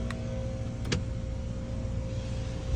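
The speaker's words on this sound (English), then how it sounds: "Now we're going to put up one of the windows" Car power window being raised during a DIY air-conditioning recharge, a steady low motor hum with a faint whine running under an idling engine, with a couple of brief clicks near the start.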